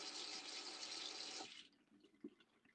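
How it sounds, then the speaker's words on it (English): Tap water runs steadily into a kitchen sink during hand washing, a close, bright splashing rush that cuts off after about a second and a half, followed by faint drips and a small clunk. "I'm just going to wash my hands again"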